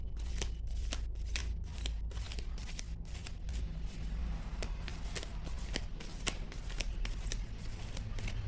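Tarot cards are shuffled by hand in a steady run of crisp riffling flicks and soft slides, close and fairly quiet, repeating without pause and with no voice over them.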